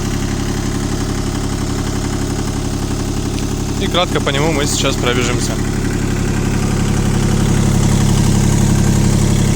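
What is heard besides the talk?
Kubota L120 mini tractor engine idling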